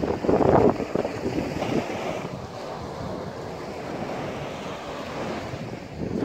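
Waves and wind at Bowers Beach, Delaware: a loud gust of wind buffeting the microphone at first, then steady surf washing and rumbling nearby without talking.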